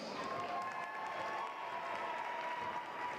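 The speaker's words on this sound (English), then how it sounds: "round of applause" Applause from the crowd at a school boys basketball event, steady clapping with light crowd noise throughout, moderately distant.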